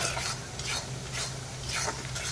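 Onions frying with spices in a pan while being stirred, a close steady sizzle with repeated scraping strokes of a spoon and no talking.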